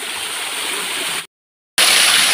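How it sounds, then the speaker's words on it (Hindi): Main waterfall on a hilltop roaring as a steady, loud, broadband rush of falling water, close by, cut by a brief silent gap before resuming. "देख लीजिए ये है मेन झरना"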